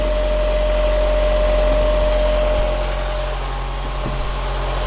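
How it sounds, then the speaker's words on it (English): Steady low hum of a Honda CR-V engine left idling during a diesel particulate filter flush, loud and constant, with a few faint clicks and no talk. "as you can hear, I've left the engine running here."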